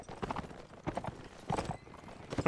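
Hooves of a horse in a video game clip-clop in uneven bursts of quick steps, fairly close and loud, with short gaps between the groups of hoofbeats and no talk.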